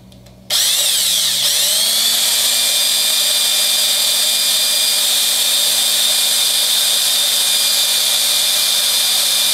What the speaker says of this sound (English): I think I'm melting more plastic than drilling through it